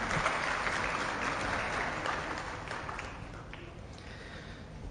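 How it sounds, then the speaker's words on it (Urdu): An audience at a gathering claps for the organizers, a dense sustained round of applause that slowly fades over the final seconds. "میں گزارش کروں گا کہ ان تمام آرگنائزرز کے لیے ایک آپ لوگ تالیاں ضرور بجا"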